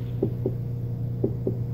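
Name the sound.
heartbeat sound from a baby toy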